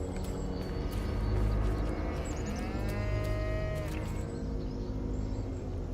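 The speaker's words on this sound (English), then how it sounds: "Oh, it just mooed also." A single drawn-out cow moo in a video game rises over a steady, loud background hum and faint clip-clop noises.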